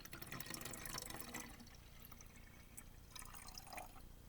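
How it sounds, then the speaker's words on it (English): Water poured slowly from a cup into a plastic bottle while making a calming bottle: a faint, steady trickle and splash lasting several seconds, with no voices. "we're going to carefully and slowly pour it into our cup, our bottle, our plastic bottle"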